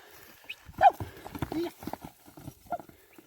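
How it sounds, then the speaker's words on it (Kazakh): Horse hooves clatter in an uneven clip-clop rhythm, fairly close, with people talking over much of it, as horses are galloped. "аттарды чабып тартып көргөзүп бер дегендер үчүн"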